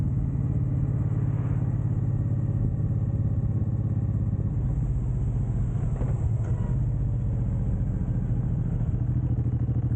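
A Suzuki M109R cruiser motorcycle rides along country roads, its engine giving a steady, loud low rumble under continuous wind noise, with no talking.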